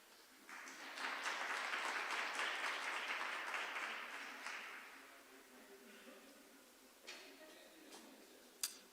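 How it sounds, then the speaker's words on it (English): Audience applause at a First Nation historical gathering, a dense wash of many hands clapping that swells quickly, holds for several seconds, then fades, followed by a few scattered claps and a sharp knock near the end. "I'd also like to ask you to give them a round of applause"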